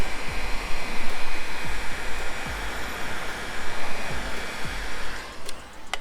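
Heat gun blowing hot air onto a car panel, a steady loud roaring whoosh with faint rhythmic thumps beneath, alone without talk, tapering slightly near the end.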